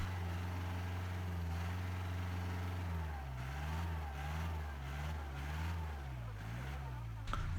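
A Mahindra jeep stuck in mud on an off-road trail in Idukki, Adimali, its engine droning steadily and then rising and falling in repeated revs, loud and close throughout with voices talking over it.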